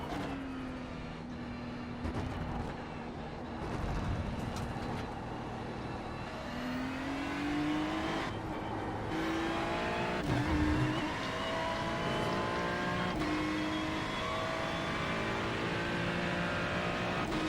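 A 410 sprint car engine in a racing video game roars and revs continuously, pitch rising and falling through gear changes, with other engines whining nearby.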